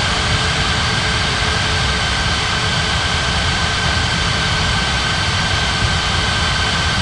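A jet airliner taxis at Bali in the Unmatched Air Traffic Control game, its engines giving a loud, steady broadband roar with a constant whine that holds unchanged throughout, no voices heard.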